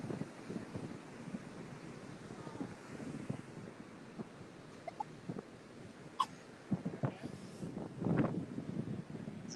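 Wind blows at the beach with surf beneath, a gusty low rumble against the microphone with scattered knocks and rustles, fairly quiet overall.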